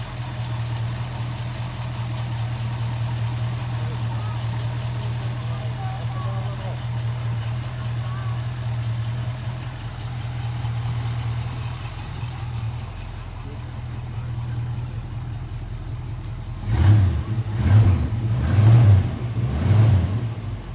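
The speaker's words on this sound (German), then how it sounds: "Hey, can you hear that? That's the Mustang." A classic Ford Mustang at a German car festival, its engine idling with a low steady rumble, then revved in several sharp bursts near the end, close and loud, with people talking nearby.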